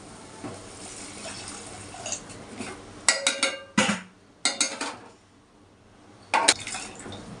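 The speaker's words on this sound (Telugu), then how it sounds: "వాటర్ వేసేద్దాం" Water poured into a pot of crab and egg curry with prawns, heard as several short splashing bursts separated by quieter gaps, close and fairly loud.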